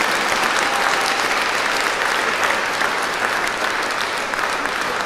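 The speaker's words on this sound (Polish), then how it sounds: "Wielkie brawa." An audience applauds after a performance of a Divine Mercy pop oratorio, with thick, even clapping from a large crowd that stays loud and steady throughout.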